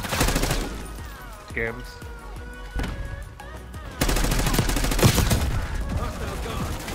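Rapid gunfire in the shooter Black Ops 6, with dense bursts of shots cracking close and loud, thickening into sustained automatic fire in the second half while voices talk over it.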